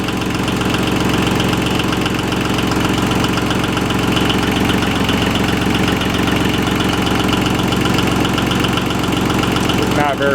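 A John Deere 850 diesel tractor idles steadily and loudly up close on a mild day, its engine knocking in an even, unbroken rhythm for the whole stretch.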